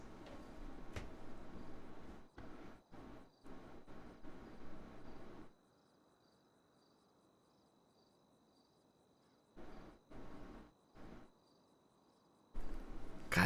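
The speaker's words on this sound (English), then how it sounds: "it's so nice listening to these crickets" Crickets chirp faintly and steadily in a video-game night scene, a soft continuous trill that sits under bursts of louder game noise.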